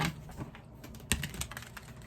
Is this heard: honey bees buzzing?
no